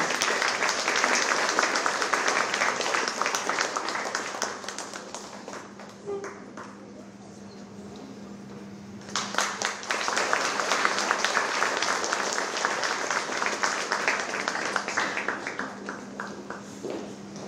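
Audience applause at a children's contest award ceremony fills the room, a dense patter of clapping that thins out briefly in the middle, then swells back up and keeps going steadily.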